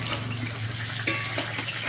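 Potatoes and eggplant fry in a pan with a steady, soft sizzle and bubbling, broken by a couple of light utensil scrapes.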